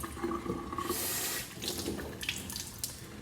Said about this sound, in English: Just gonna rinse this off.